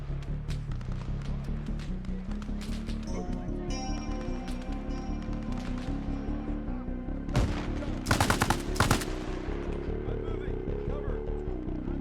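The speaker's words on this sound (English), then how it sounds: "Contact, southwest. Enemy machine gun." Bursts of enemy machine-gun fire in a military shooter video game, rapid cracking volleys over a steady droning background, with a voice speaking alongside.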